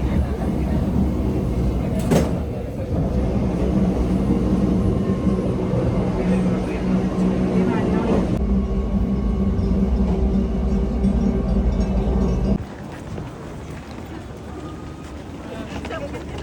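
Inside a Swiss train running to Wengen, a steady low rumble of wheels and carriage fills the ride, with voices at times and abrupt shifts in the noise partway through.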